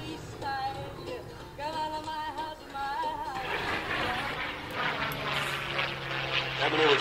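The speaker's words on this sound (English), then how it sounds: "This P-51 is powered by a 12-cylinder Merlin engine." A P-51 Mustang fighter with a 12-cylinder Merlin engine flies past, its propeller drone swelling from a tonal hum into a louder, rougher roar toward the end, while people talk faintly over it.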